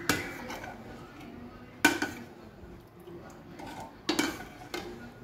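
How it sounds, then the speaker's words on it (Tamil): A utensil stirs kadhi batter in a pot with asafoetida and turmeric. Metal scrapes and clinks against the pot in a few distinct knocks, with soft rubbing between them. "இதையும் நல்லா கலந்து விட்டுக்கலாம்."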